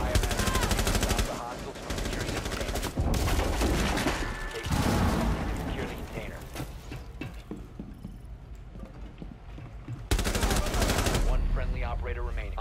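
Rapid gunfire from the video game Rainbow Six Siege, loud bursts crackling near and far amid other game noise, with people talking over the action.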